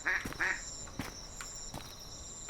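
A duck near a lakeside trail in the Dolomites quacks twice in quick succession, close and clear, followed by faint outdoor ambience and a few soft knocks.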